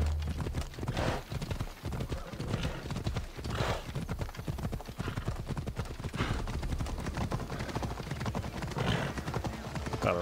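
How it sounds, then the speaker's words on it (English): A horse gallops in Assassin's Creed Odyssey, its rapid clip-clop of hooves running steadily and loud throughout, with occasional whinnies over a layered game soundscape. "Gotta ride a horse right into the sanctuary."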